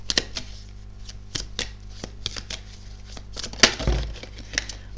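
Tarot cards are shuffled for a reading. Quick irregular papery snaps and riffles come close and clear, with a heavier flurry near the end and no voices.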